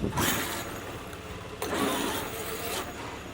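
A Traxxas X-Maxx RC truck with an 800kv motor runs on rocks and dirt road, giving bursts of whirring and revving noise that surge, ease off and rise again, close and fairly loud.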